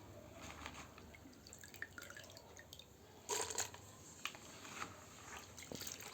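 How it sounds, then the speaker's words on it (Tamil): Washed lentils (dal) go into a cooking pot for sambar with wet drips, trickles and small splashes, including a brief louder splash midway. The sound is fairly close and no one speaks. "இதிலே பருப்பையும் போட்டுடணும்."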